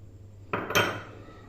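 Chopped onion and tomatoes dropped into a juicer jar, two quick hollow clatters close together, the second louder, ringing briefly against the jar in a quiet kitchen.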